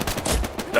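Pistol shots from the video game Hell Let Loose, a few sharp reports in quick succession at close range, fairly loud, over a busy battlefield background.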